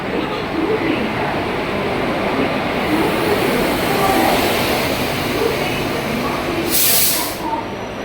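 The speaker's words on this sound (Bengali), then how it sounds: "দেখতে পাচ্ছেন সাঁতরাগাছির ওয়াপ4 লোকোমোটিভ নিয়ে দীঘা ফার্স্ট প্যাসেঞ্জার রেডি।" At Santragachi station, the first Digha passenger train stands ready behind a WAP4 locomotive, giving a steady loud hiss and rumble with a sharper burst of air near the end.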